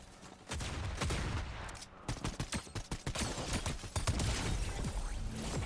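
Rapid gunfire from the video game Fortnite crackles in dense bursts and quick repeated shots, fairly close and loud, with brief pauses between volleys.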